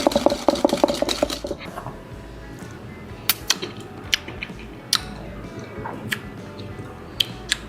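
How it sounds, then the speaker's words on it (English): Deviled egg yolk filling mixed with wasabi being whisked in a bowl, a quick run of metallic ticks that gives way to sparse, sharp clinks against the bowl over a soft background. "we're just going to start whisking this thing up until it's nice and fluffy"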